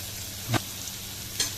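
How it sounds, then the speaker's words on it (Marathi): Oil poured in at the side of a pan while cooking homemade paneer biryani, giving two short bright sizzling bursts close by over a low kitchen background, with no talking. "थोडंसं साईडने थोडंसं तेल टाकून घ्यायचं."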